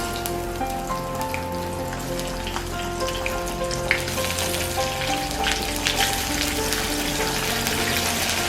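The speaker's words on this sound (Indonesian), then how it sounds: "kita goreng dulu ikan asinnya ya" Salted fish frying in a pan for a coconut-milk cassava-leaf dish, a steady close crackle and sizzle with scattered pops, alone over a constant background hum.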